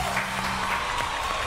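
A studio audience on the game show Jour de chance claps steadily in a short, dense burst of applause that stays even throughout.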